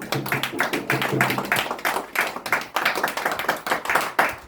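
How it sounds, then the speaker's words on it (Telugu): A congregation claps loudly in a prayer hall, a fast run of sharp, rhythmic hand claps filling the room, with a low sustained tone underneath early on. "గట్టిగా చప్పట్లు కొడదాం"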